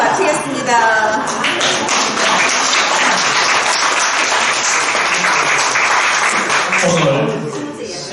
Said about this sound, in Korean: 우리에게 좋은 사항이 되주신 강사님께 다시 한번 큰 박수 부탁드립니다